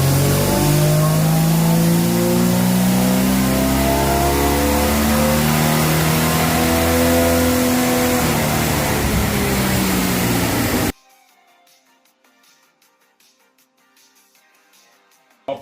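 A Standard 245 Hemi with a 500 2bbl Holley carburettor, Pacemaker pipes and 3-inch exhaust runs loud on a dyno, its engine note rising steadily through the revs for about eleven seconds before cutting off abruptly, leaving quiet room noise.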